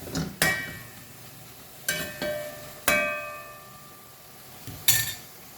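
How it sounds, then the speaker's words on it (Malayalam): Mushrooms with turmeric and pepper powder are stirred in a pan over a medium flame, making four or five sharp spatula clinks and scrapes against the metal with a soft sizzle underneath. "ഇനി മീഡിയം ഫ്ലെയിമിൽ വെച്ച് തന്നെ ഒന്ന് ഇങ്ങനെ വഴറ്റി കൊടുക്കാം"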